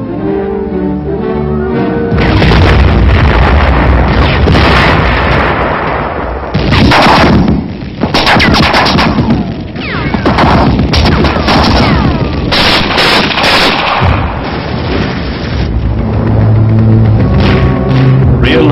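World War II combat at the Battle of Aachen: heavy, continuous gunfire, machine-gun bursts and booming artillery explosions, loud and dense throughout with rumbling low-end blasts.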